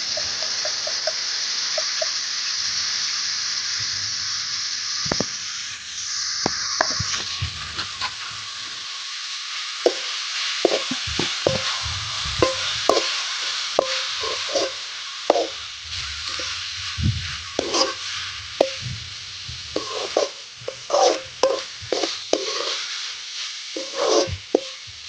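Chopped tomatoes and turmeric frying in a pan give a steady hiss, broken by repeated clattering scrapes and plops as a spoon stirs, the stirring growing busier toward the end with no talking.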